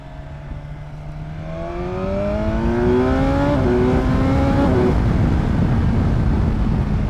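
2019 BMW S1000XR Triple Black motorcycle engine winding up under acceleration, its pitch climbing steadily through the gears with a brief shift step, loud and close over constant wind rush.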